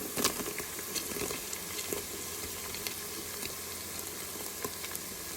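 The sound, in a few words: sautéing onion and potato for vegetable biryani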